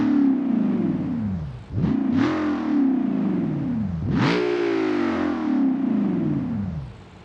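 Simulated car engine from a BeamNG.Drive mod, revving up in strong rising sweeps that drop between shifts, a loud buzzy tone climbing and falling several times alone.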